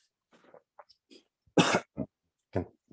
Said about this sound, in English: Pardon me for the coughs and sniffles.